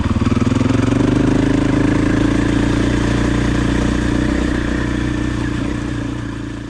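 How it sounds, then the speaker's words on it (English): Husqvarna FE 501 motorcycle engine running close by, a loud, steady single-cylinder thump with mechanical clatter that holds even throughout and eases slightly toward the end, with no talking. "how the engine works."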